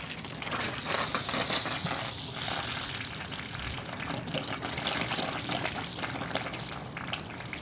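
Water drains from a garage fire sprinkler system through a hose, making a steady rushing, splashing flow throughout.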